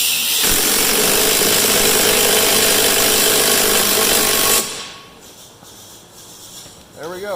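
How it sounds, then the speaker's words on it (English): An impact wrench hammers loudly and steadily on a 1 3/8 nut of the thresher belt take-up pulley on a Massey 300 combine for about four and a half seconds, then stops, leaving quieter shop sounds. "So we'll use our impact and hold it in place so we don't lose our orientation."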